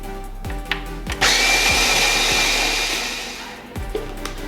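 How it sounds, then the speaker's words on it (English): An OXO burr grinder grinds French roast coffee beans in a kitchen, a loud, steady whirring roar that runs for about two and a half seconds between a few brief clicks and knocks, with no talking. "now I am going to grind the coffee beans. This is the OXO burr grinder"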